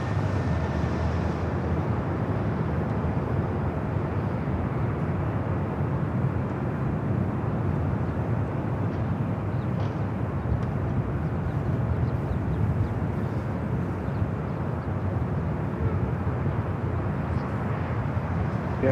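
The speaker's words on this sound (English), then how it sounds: "It's a flight coming in from Shanghai and the United Dreamliner." A United Dreamliner airliner arriving from Shanghai at Los Angeles airport makes a continuous low jet roar that stays broad and steady throughout, with no clear voices.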